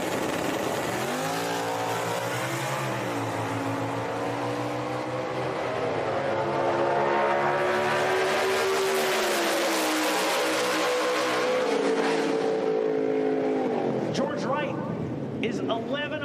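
Mustang drag race cars, including a 2013 Mustang and a 1996 SN95 Mustang, launch down the strip. Engines rev and climb in pitch as the cars pull away loudly, with an announcer talking over them.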